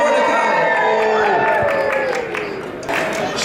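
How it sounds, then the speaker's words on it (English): A teen fellowship group cheers and shouts together when a name is called during a retelling of the Esther story, a loud burst of mixed voices, whoops and some clapping filling the room. "And then we cheer whenever we hear the names Esther or Mordecai."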